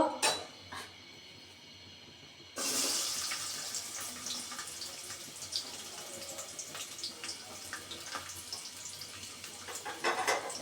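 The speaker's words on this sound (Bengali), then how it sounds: "তেলটা আমার গরম হয়ে গেছে এখন এর মধ্যে আমি পেঁয়াজ রসুনগুলো দিয়ে দিব" Onions and garlic hit hot oil with a sudden loud hiss that settles into a steady, crackling sizzle with scattered pops, close up, continuing to the end.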